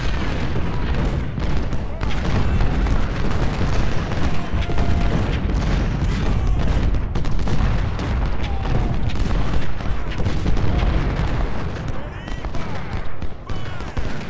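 Dense, continuous cannon and artillery fire from a Civil War battle in Ultimate General: Civil War, with rapid booms and crackling volleys rolling on loudly throughout.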